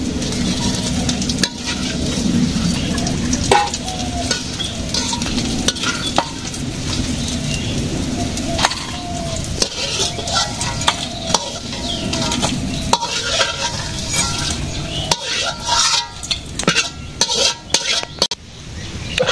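Malabar spinach fritters sizzle steadily in hot oil in a simple village kitchen, with occasional clinks of a stirring utensil against the pan and some talk over the frying.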